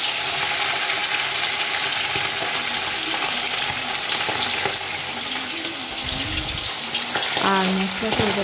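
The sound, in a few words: rohu fish frying in hot oil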